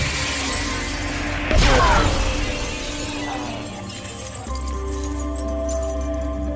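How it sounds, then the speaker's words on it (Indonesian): In a film, a bullet strikes a sniper rifle scope and shatters it in one sudden crash. The break cuts through a steady background of music and ambience. "menembak satu peluru yang mengakibatkan teleskop senjata Masiello pecah"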